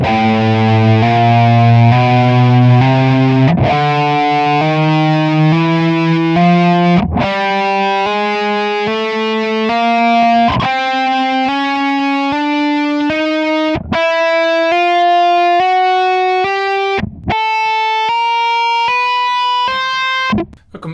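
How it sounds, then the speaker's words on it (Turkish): A distorted electric guitar plays a 1-2-3-4 hammer-on exercise, a steady stream of legato notes climbing step by step in repeating groups, loud and sustained with brief breaks between phrases. "En basitinden 1-2-3-4 hammer-on egzersizini konuşalım."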